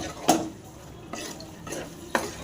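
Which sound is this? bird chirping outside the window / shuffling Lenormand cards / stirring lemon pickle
stirring lemon pickle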